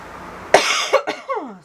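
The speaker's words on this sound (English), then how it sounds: "COVID cough. It is strong, I tell you." A person with a COVID cough lets out a sharp, strong cough followed by a few smaller coughs and throat sounds, close and loud in a quiet room.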